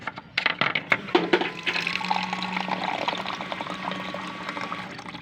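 A water dispenser fills a drinking glass, with a steady close pour of running water that rises in pitch as the glass fills, and a few clinks and knocks at the start.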